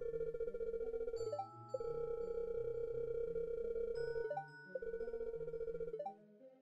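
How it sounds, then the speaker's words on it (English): A telephone rings inside the player's home in a creepy video game, giving a steady electronic ring in repeated bursts with short gaps, clear and alone without any talk. "you'll hear the phone ring in your home"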